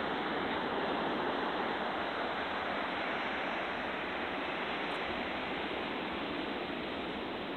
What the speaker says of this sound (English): Look at this wave coming in.